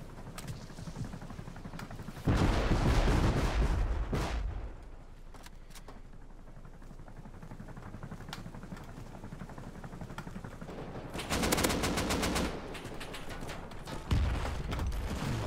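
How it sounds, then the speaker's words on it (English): Rocket explosions in the survival game Rust, several loud booming blasts at intervals, with quieter rumbling and crackle between them. "it's rockets again."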